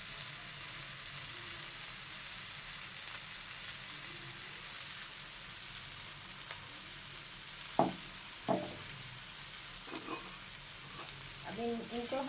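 Fried karela (bitter gourd) being stirred into a cooked onion and green chilli masala, giving a steady soft sizzle in a pan with occasional louder scraping stir strokes near the end.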